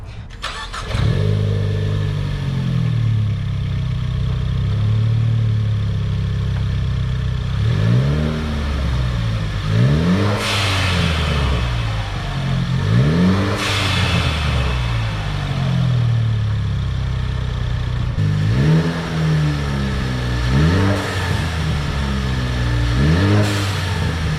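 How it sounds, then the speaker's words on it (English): A tuned Ford Focus ST with its sound symposer deleted and a blow-off valve revs repeatedly, each rising engine swell falling back with a hiss of the valve venting, loud and close with no talking. "wanted to kind of tone down the blow-up valve and just make it sound more normal, not so obnoxious and blowing off constantly"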